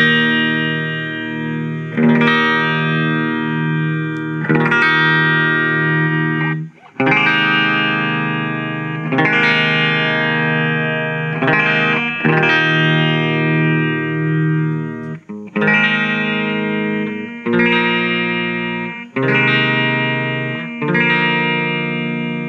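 Guitar played through the normal channel of a 1979 Fender Twin amp, a series of loud sustained chords rung out one after another, each ringing fully before the next, with no talking.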